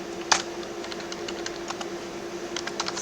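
Rapid, light clicks of fingers typing on a computer keyboard, close and fairly even, with a sharper keystroke early and a faster cluster near the end over a steady low hum.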